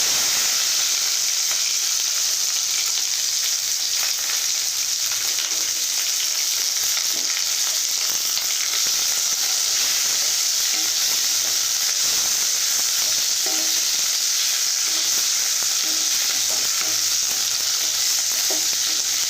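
Chopped onion pieces frying in a pan, a continuous even sizzle with soft crackles and occasional stirring scrapes, steady throughout with no talk.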